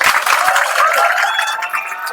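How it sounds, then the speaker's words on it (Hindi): A classroom audience of students claps for a teacher at a coaching institute in a short, loud burst of dense, overlapping applause, with a few sharp claps near the start before it fades slightly. "चलिए एक बार ताली बजाइए सर को।"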